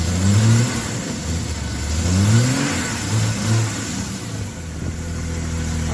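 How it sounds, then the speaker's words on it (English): Jeep Grand Cherokee ZJ engine revved up and down several times at varying speeds, heard close and loud outdoors on a street, each rise and fall of the revs distinct over a steady idle. "a video of how the engine sound changes at different speeds"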